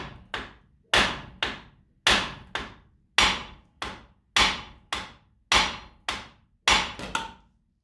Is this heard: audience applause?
no